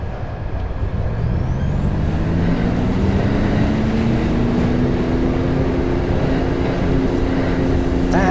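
In a train simulator video game, a diesel train engine revs hard, giving a loud continuous rumble whose pitch climbs steadily as it accelerates.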